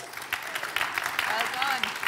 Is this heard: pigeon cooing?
no